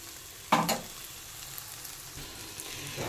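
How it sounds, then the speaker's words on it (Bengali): Maggi masala fries in a pan: one brief loud sizzling burst as it is stirred, then a soft, steady frying hiss close by. "একটু ভাজা হোক এটা।"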